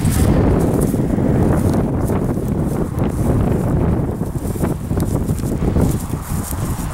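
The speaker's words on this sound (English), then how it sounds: "it's a very windy day" Strong, steady wind roars and buffets the microphone throughout while flying a kite, a dense low rumble with gusty fluctuations and faint rustling.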